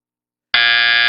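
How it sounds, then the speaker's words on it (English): A game show buzzer in a quiz contest sounds once with a sudden onset, a loud, steady, harsh electronic tone that continues without a break after a moment of silence. "Hands on buzzers."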